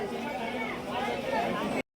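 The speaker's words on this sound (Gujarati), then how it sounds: "જુનાગઢ બહુ ભીડ છે." Dense crowd chatter fills a busy platform at Junagadh railway station, a continuous murmur of many voices with a nearer voice speaking over it, ending in a sudden cut.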